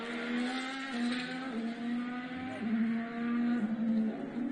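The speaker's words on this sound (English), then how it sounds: "Like seeing the car out on track as well." Ferrari SF-23 Formula 1 car running on track at its launch, a high sustained engine whine with shifting pitch, fairly faint and steady over several seconds without talk.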